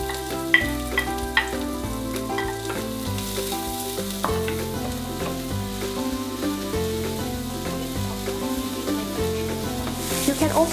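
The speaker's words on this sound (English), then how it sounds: "we're going to add the onions into the pan." Onions sizzle and fry in a little oil in a pan for a Nyonya dish of fried anchovies with onions, with a steady, close crackle that runs throughout.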